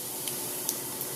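Ajwain seeds sizzle in hot oil while tempering for a bhindi sabji: a soft, steady hiss with a few sharp crackling pops, with no talk.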